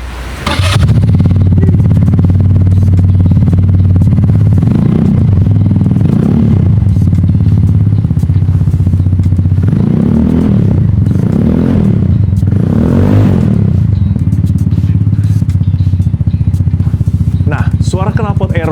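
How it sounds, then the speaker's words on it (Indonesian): A 2025 Peugeot Django scooter fitted with an aftermarket Aero exhaust, idling loud and close with a deep bass tone, swelling in a few short revs before settling back to idle; no talk over the engine. "Suara knalpot Aero itu,"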